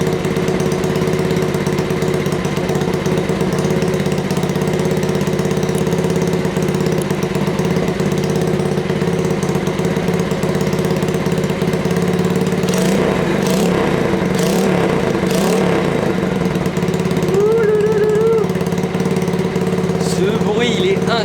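A Honda Dax motorcycle with a Keepspeed exhaust idling close by, a constant low putter that runs throughout, with people talking over it partway through.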